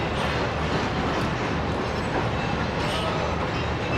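A train rumbles steadily at Rawalpindi station, a dense, loud, continuous roar of rail cars and wheels with no clear breaks, heard close by.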